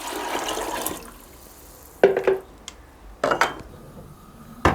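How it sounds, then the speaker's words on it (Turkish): Hot water poured into a cooking pot, starting with a soft rushing pour, followed by three sharp metallic clanks and splashes of pot and utensil, close by with no talk. "İçine bir sulayı kadar sıcak suyumuzu döküyoruz."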